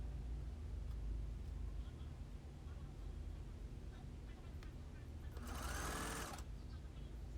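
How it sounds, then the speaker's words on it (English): A sewing machine back stitches a wig closure onto hair tracks, a steady low mechanical hum running throughout with a brief louder burst near the end. "Now my back stitch so I can secure the two together."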